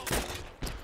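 Gunfire in the PC shooter Heroes and Generals: two sharp, loud shot bursts about half a second apart, each trailing into a brief rumbling decay, with no talking.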